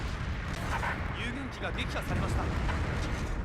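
A grenade explosion in Mobile Suit Gundam: Battle Operation booms among dense in-game combat noise, with rumbling blasts and scattered synthetic effects, while a player talks over it.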